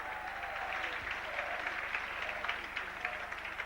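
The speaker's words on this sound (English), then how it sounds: "Takes the applause from the crowd and applauds them back" Crowd applause rolls steadily through a stadium after a try at a 1996 Bradford versus St Helens rugby league match, a dense, continuous clapping wash that holds throughout.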